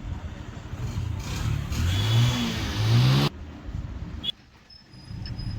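A Bajaj CT 100 motorcycle engine under repair revs up, a rising rough mechanical whine lasting a few seconds before dropping abruptly to a lower idle, close and fairly loud.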